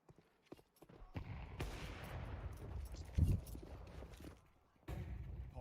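Bursts of MP9 submachine gun fire in a Counter-Strike 2 match, dense rapid shots layered over steady game noise, with a louder cluster midway and a fresh burst near the end.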